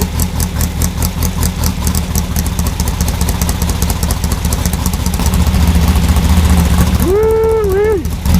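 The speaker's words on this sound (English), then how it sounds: "This is one hell of a motor. Listen to that." A 1975 VW engine built for a trike runs steadily through its break-in, a loud, continuous clattering idle with a rhythmic mechanical pulse, and a voice rises over it near the end.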